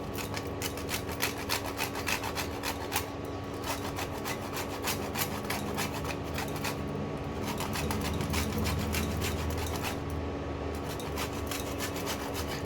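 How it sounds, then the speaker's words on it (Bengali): Whole nutmeg rubbed against a grater while making kesari paneer, a steady close rasping scrape with quick repeated strokes continuing for the whole stretch, with no talk. "আর এই যে জায়ফল ছিল, এই জায়ফলটাকে একটু ঘষে দিয়ে দেবো।"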